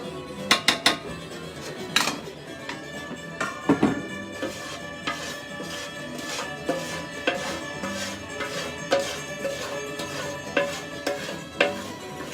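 Metal utensils clank and scrape against pots as hot roux for a Cajun seafood gumbo is moved from one pot to another, giving irregular clinks and knocks with a few sharp strikes at the start.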